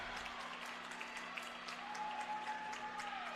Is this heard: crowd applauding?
yes